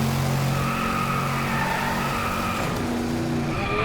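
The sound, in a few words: car engine accelerating in Driveclub video game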